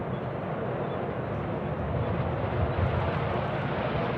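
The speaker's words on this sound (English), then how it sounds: "It's an F-16." An F-16 fighter jet flies past near Tucson International Airport, a broad, steady roaring wash of jet noise that holds loud throughout and builds slightly toward the end.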